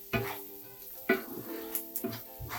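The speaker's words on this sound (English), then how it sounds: "So, I'll give this a stir." Enchilada filling with oregano and paprika stirred in a frying pan: a handful of sharp spoon scrapes and clinks against the pan over a low, steady sizzle, close and fairly quiet.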